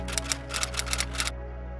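A phone camera shutter fires in a quick run of about eight crisp clicks in uneven pairs over a faint steady hum, then stops.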